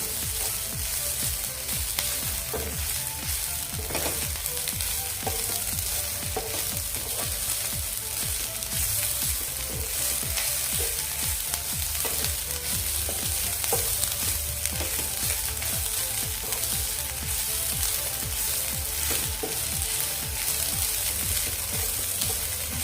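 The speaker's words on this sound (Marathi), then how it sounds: "थोडा वेळ अशीच परतून घेऊयात आपण ही चटणी" Bombil (Bombay duck) chutney sautés in a pan over a medium gas flame, sizzling and crackling steadily throughout, with frequent scraping taps of a spoon stirring it.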